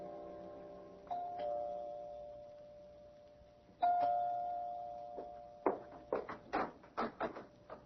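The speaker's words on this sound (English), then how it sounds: "You can ring the doorbell." An apartment doorbell chimes twice with ringing two-tone notes that fade out, then a quick series of sharp knocks or rattles follows in a quiet room, all at low volume.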